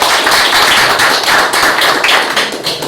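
An audience applauds at a talk on Perón: dense, steady clapping from many hands fills the room without pause, loud and close, with no voices over it.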